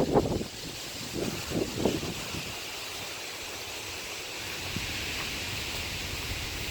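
Wind blowing outdoors at the corner of a hayfield, a steady broad rush with a few low buffeting gusts on the microphone near the start, then settling into an even soft hiss.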